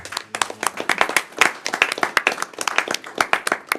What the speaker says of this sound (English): can we please all give Ms. Stroud a round of applause?